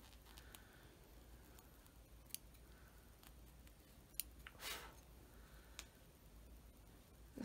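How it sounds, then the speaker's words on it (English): Scissors snip embroidery threads off the back of a spool pin topper, a few faint, sparse clicks against quiet room tone. "So I will trim these threads"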